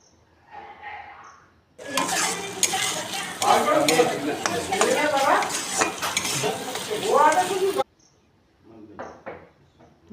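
Chopped tomato added to a ground-spice paste frying in oil for a chicken curry, a loud burst of sizzling with stirring and clinking of a spoon against the pan, framed by quieter moments before and after.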